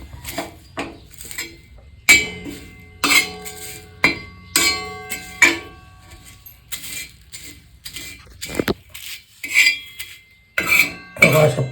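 Tea powder being stirred and roasted in a pan, metal utensil scraping and clinking against the pan in a run of irregular, sharp taps and clatters, close and fairly loud with no talk.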